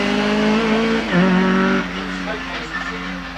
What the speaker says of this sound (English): Matthew Miles pressing on in that Mark II Escort of his, just rounding the Torres.